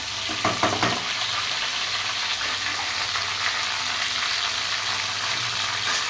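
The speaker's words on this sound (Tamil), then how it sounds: "இப்போ வந்து லேசாக கிண்டிக்கணும்" Whole spices, including cinnamon, fry in oil in a pan with a bright, continuous sizzle; a few quick clattering stirs come near the start, then the frying hiss carries on evenly and close.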